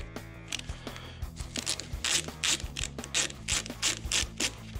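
A screwdriver backs screws out of the clutch fluid reservoir cover on a Honda Goldwing motorcycle, giving close, rhythmic bursts of mechanical clicking and ratcheting that repeat steadily with no voices.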